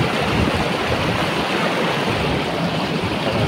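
A clear river in Matanao, Davao del Sur rushes steadily and close by, a constant broadband hiss with no voices.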